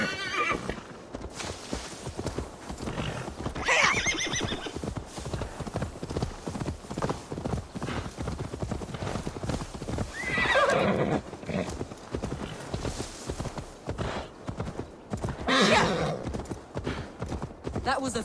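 A horse in Assassin's Creed Valhalla trots with a steady clip-clop of hooves and gives three loud, shrill neighs spaced several seconds apart, while voices talk over the hoofbeats.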